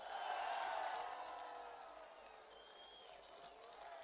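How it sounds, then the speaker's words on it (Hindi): Rally crowd at an Eid-ul-Fitr gathering in Zaman Park clapping and cheering in a dense, steady roar, loudest at the start and easing slightly, with scattered shouts over the din. "सब हाथ उठाकर तालियों की गूंज पे बताइए"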